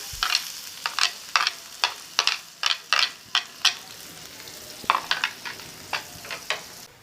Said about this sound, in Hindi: पहले हम थोड़ा प्याज को पहले पकाएंगे।